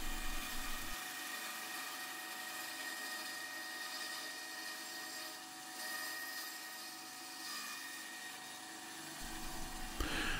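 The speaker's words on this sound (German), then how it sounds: "Die vorgefräste Kontur der Sitzfläche säge ich jetzt grob mit der Bandsäge aus." A band saw roughly cutting out the pre-milled contour of a wooden workshop stool seat, a continuous whining drone that holds steady for several seconds before the motor note drops away.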